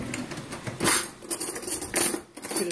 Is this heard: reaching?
yes